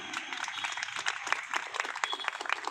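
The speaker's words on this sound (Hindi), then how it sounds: "मैं तो चाहूंगा उन एमएलटीओं के लिए एक बार जोरदार ताली।" Loud, dense applause from a crowd at a one-day sit-in protest by COVID-19 health workers in Janjgir, cheering lab technicians; continuous clapping with scattered sharp peaks, voices mixed in underneath.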